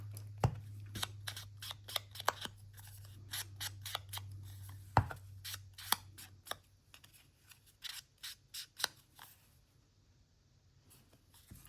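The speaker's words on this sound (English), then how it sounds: "for this, I need my scissors" Scissors snip through paper while cutting craft tags for junk journaling, giving a close, quiet run of sharp crisp clicks at an uneven pace, with a low steady hum underneath and no talk.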